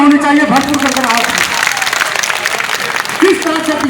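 A crowd claps for Mukesh Sahni, national president of the Vikassheel Insaan Party, at a political rally in Munger. The applause is a dense, continuous patter under loud voices that rise over it at the start and near the end.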